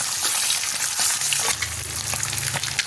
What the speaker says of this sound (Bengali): ডিমটা একটু একটু ভেজে আমি তুলে নেব।